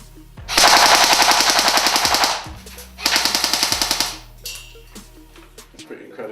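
SRC M4 Gen 3 airsoft AEG firing full auto in two rapid mechanical bursts of rattling shots, close and loud, followed by a few quieter clicks and handling sounds.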